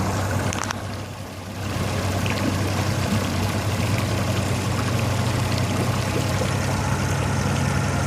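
A pontoon boat engine idles with a steady low hum over running water, the rumble dipping briefly near the start, then holding constant and close.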